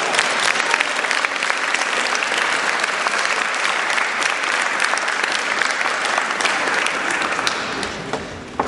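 Audience applause at an exhibition opening in Vilnius Town Hall, loud, dense, sustained clapping from a full room that carries on evenly before easing slightly near the end.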